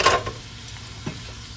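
Rice for Spanish rice sautéing in a hot pan, a brief burst of sizzling and stirring that settles into a soft, steady frying hiss.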